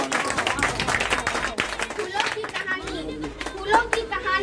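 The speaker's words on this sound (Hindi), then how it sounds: "जोरदार तालियां होना चाहिए।" An audience applauds at a Dr. B. R. Ambedkar Mahaparinirvan Diwas gathering, with scattered, uneven clapping mixed into loud, close children's voices and chatter.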